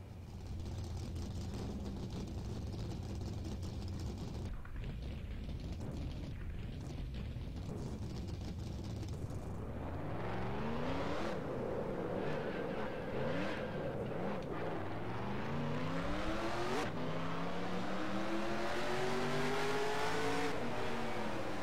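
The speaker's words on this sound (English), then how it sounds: "Start your engines." Stock race car engines in NR2003 at Kansas start up and idle as a deep rumbling pack, then rev in rising and falling overlapping sweeps from many cars, loud and continuous.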